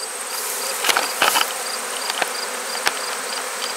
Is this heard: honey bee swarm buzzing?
yes